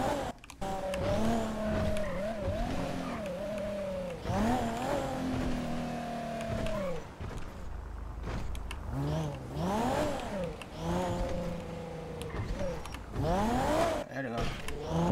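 Cars in the GTA RP video game rev and accelerate repeatedly, engine pitch sweeping up and down through gear changes, with squealing tires and loud continuous engine noise while people talk over it.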